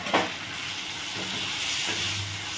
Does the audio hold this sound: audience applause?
no